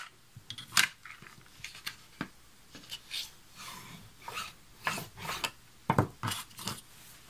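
Paper pages creased and folded by hand, heard as a quiet, close series of crisp rustles and sharp creasing snaps at irregular intervals, alone without speech.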